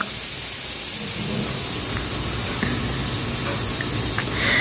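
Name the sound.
pressure cooker whistle releasing steam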